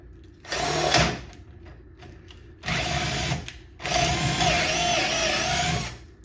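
A Bosch 12V drill driver with a 5/16 bit drills in three close bursts, each a loud whirring whine that starts and stops sharply, the last one longest.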